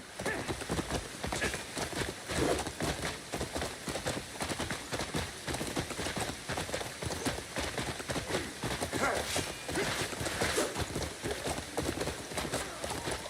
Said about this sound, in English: I don't know why, but the horse is not really running.